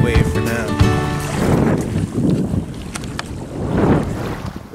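Wind gusting across Lamoine Beach in Acadia National Park on a cold day, loud buffeting microphone rumble that swells and eases in waves, with a person talking over it at the start.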